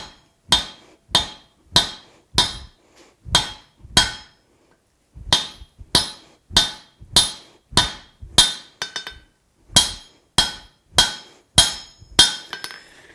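A blacksmith hammers steel on an anvil while forging box jaw tongs: sharp ringing blows, close and loud, in a steady rhythm of about sixteen strikes with brief pauses, no talk.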